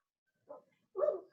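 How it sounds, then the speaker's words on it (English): Dogs in a home give two short bark-like yelps, the second louder and longer, close by, with no talk over them. "my dogs are about to have a hissy"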